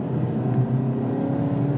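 A 2017 Mazda CX-3 AWD engine revs hard under full acceleration, a loud, steady, rising drone that holds near its top end without break, with no talking.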